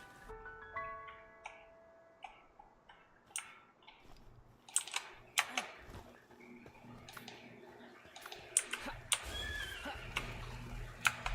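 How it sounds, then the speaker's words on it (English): A horse neighs within a video game, its whinny rising over game music and clicks, with sharp keyboard and mouse clicks scattered throughout. "Horsey."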